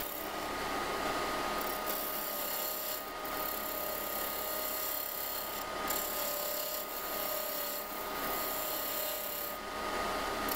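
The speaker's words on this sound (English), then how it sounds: "now I'm just going to start shaping, and I'm just going to use a spindle gouge for that." Maple burl pepper mill shaped on a lathe with a spindle gouge, a steady close rasping, scraping cut that runs without a break, with faint brief swells.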